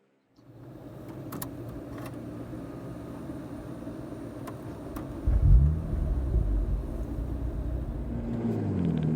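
A 2009 BMW Z4 3.0 twin-turbo E89 convertible driving, a steady low engine rumble with road noise that swells briefly as the car picks up speed.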